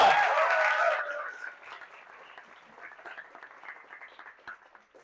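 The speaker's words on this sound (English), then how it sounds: "please give one more warm round of applause for Urja!" An audience at an Astronomy on Tap science talk gives a short burst of dense applause for a speaker that quickly fades to a few scattered claps and a quiet room.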